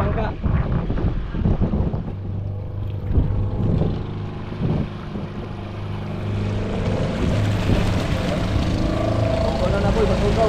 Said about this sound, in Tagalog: May dumana ng bangka.